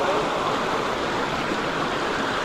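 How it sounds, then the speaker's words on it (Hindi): Fast stream of rushing water at a river crossing on a pilgrimage trip, a steady broadband roar that stays close and even throughout. "पानी की धार बहुत तेज बा"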